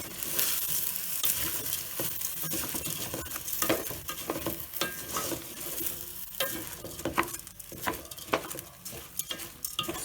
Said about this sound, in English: So after you put your rice and you have the meat, just stir.